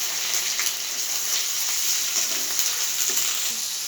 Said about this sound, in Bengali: ফোড়নে দিয়ে দিচ্ছি একটা তেজপাতা, দিয়ে দিচ্ছি পেঁয়াজ কুচি, দিয়ে দিচ্ছি আদা পেঁয়াজ রসুন বাটা